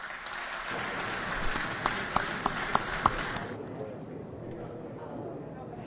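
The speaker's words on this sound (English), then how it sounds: "that news getting a round of applause" Audience applause at Governor Brian Kemp's State of the State address, a steady wash of clapping from a large crowd that fades out partway through, leaving quieter room noise.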